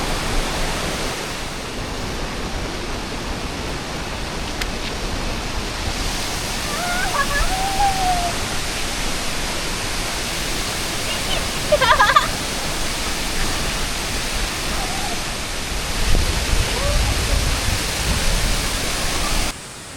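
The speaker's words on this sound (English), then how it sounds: "This is said to be one of the most beautiful waterfalls in Bali." Steady broadband roar of a waterfall in Bali, heard up close as a constant wash of falling water that fills the whole clip, with faint brief sounds over it.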